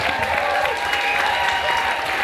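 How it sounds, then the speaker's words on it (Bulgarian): Steady applause from a concert audience at a diploma concert, dense clapping filling the whole moment at full volume, with a faint hum of voices underneath. "Аплодисменти за Ани."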